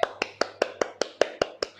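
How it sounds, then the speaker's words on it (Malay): Crisp, evenly timed hand claps, about nine in a quick steady rhythm, ring out close by during a live mathematics class for young primary pupils. "Tepuk tangan sikit."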